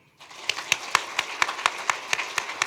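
A church congregation at a New Year's Eve service claps in a steady, even rhythm, with individual claps clearly spaced and moderately loud, no voices over it.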